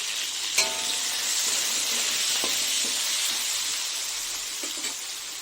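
New potatoes frying in a pan with salt and turmeric give a steady, moderate sizzle and hiss, broken by a few light knocks and stirring clatters, with no talk.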